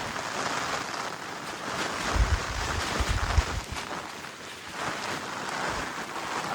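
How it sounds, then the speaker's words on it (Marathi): Strong wind roars steadily across the microphone with gusty low buffeting, over a constant hiss of heavy rain, at Pargad fort in the Konkan hills. "पाऊस जोर चालू आहे. वारा तर काय सांगूच नका."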